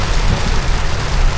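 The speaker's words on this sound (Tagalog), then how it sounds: "At napakalakas ng ulan" Heavy rain pours loudly and without a break at a riverside camp in Botolan, Zambales, a dense close roar of falling water at midday.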